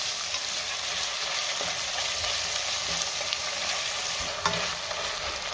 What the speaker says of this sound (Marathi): दोन मिनटं मी टोमॅटो चांगला परतून घेतलेला आहे।